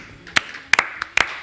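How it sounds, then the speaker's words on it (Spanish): A few quick hand claps in a kitchen at a TV cooking segment about empanadas: about six sharp, close claps in loose clusters over a second and a half, with no talking. "¡Aplauso para este repulgue!"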